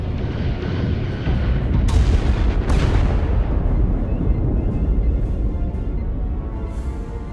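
Starship weapons fire in the space combat game Star Trek Resurgence: heavy booming blasts roll out over a low rumble, with two sharp discharges early on and a sustained barrage after.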